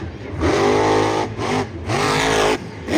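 An engine sound effect for a toy monster truck roars loudly in two long revving bursts separated by a short dip, pitch sweeping upward in each surge, heard close with no talk.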